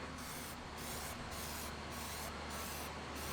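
A Plasti Dip aerosol can sprays a coat onto the chrome bumper ring of a Ralliart, producing a close, continuous hissing spray with a faint regular pulsing in its brightness, and no one speaks.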